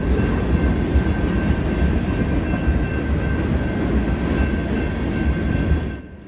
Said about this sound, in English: view the cinematic crossing lights while the cars are going by with the bell still going